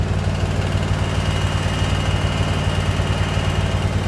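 An engine idles with a steady low rumble and vibration, continuous and loud with no voices.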